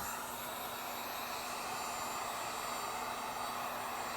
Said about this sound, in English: we'll heat it up, and then we just want to close that gap between all those little plastic welds